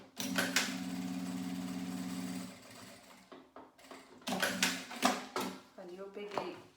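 A sewing machine runs in a fast, even burst while corners of a fabric pouch are reinforced, then stops, followed by scattered handling knocks and rustles of the fabric and machine.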